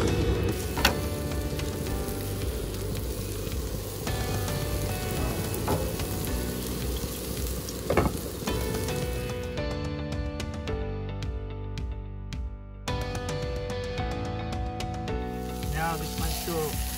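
Steak frying on low heat in a pan on a Coleman Hyperflame camp stove, a continuous close sizzle with occasional clicks and a faint hum, some background tones shifting partway through.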